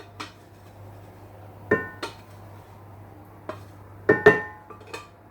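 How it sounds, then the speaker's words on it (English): A dish of spicy beef tomato sauce goes into the oven, with several sharp close clinks and clatters of dishware in pairs over a low steady hum. "I'm just going to chuck it in the oven now."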